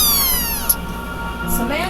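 A cat meows in a home, a couple of rising and falling cries over a steady background hum with some nearby speech-like sound.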